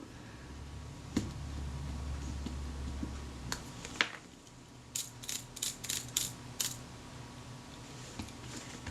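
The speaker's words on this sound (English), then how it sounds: "I'm just checking the action to make sure it's not too tight. There's a lot of rattle there" Mechanism of a Zeiss Ikon Contina IIa camera being worked, heard as quiet close-up clicks and ratcheting rattles, with a few scattered ticks followed by a quick run of sharp clicks.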